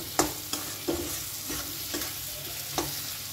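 Chili powder and two slit green chilies being stirred into a frying pan while making chilli gobi, with a steady sizzle and several sharp scrapes of the spoon across the pan at irregular intervals, close and moderately loud.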